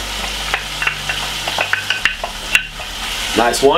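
Callaloo fries with garlic and thyme in a pan, giving a continuous close sizzle marked by sharp spoon scrapes and clinks against the pan, while a voice briefly speaks near the end.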